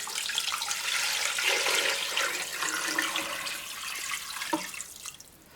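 Filtered water pours steadily into a pot of rotisserie chicken leftovers for broth, a continuous splashing rush that fades toward the end, with no voices.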